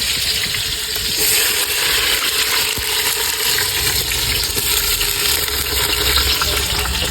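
Chopped onions hit hot oil on a gas stove aboard a Porbandar fishing boat, giving a steady, loud, dense sizzle that holds without a break across the whole stretch, with no talk over it.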